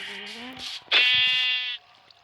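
Sheep bleat from the Minecraft survival game, a short synthetic nasal cry with a long wavering middle, loud and close, set among brief bits of a voice.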